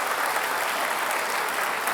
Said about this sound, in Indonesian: Kita beri tepuk tangan untuk kedua kandidat.